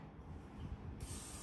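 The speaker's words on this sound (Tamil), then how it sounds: "ஸ்ட்ராங் ஸ்ப்ரே போட்டுக்கோங்க." Strong hairspray hisses from a can onto a styled hairdo, one short, steady spray burst heard up close.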